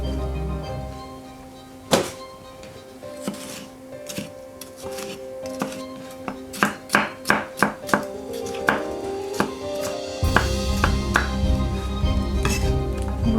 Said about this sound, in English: and slice this up. Run my knife along the edge there.